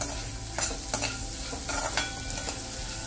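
Grated ginger sautéed with vegetables in a pan for an upma premix, a continuous close sizzle with repeated spatula scrapes and stirring strokes at an uneven rhythm.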